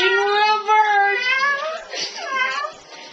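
A cat with its head stuck in a box gives two drawn-out, wavering meows close by, the first long and the second shorter after a brief pause.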